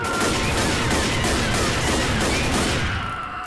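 Dense, continuous gunfire fills Left 4 Dead gameplay, a loud rapid burst of overlapping shots that barely lets up before easing slightly at the very end.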